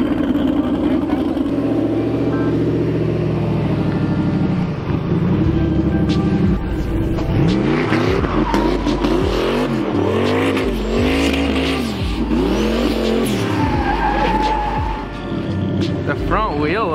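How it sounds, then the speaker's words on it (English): Go-kart on a track day, its engine revving up and down in rapid repeated surges as it drives and skids around the circuit, loud and close, with some faint tire noise and voices in the background. "I'm gonna drive Quan's car"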